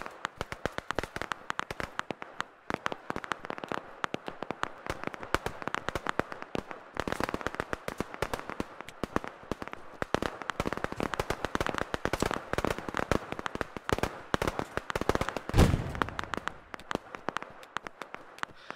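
Gunfire in the tactical shooter Operation Harsh Doorstop: dense, rapid cracking shots fire in long continuous bursts with brief pauses, sharp and fairly close, with no talking.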